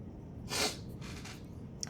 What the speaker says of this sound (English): Uh-oh, gonna sneeze.